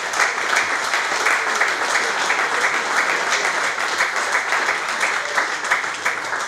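Audience applauding presidents, directors and coaches at a 50th anniversary celebration of a local football club in Sovramonte, dense steady clapping sustained throughout at an even, moderately loud level.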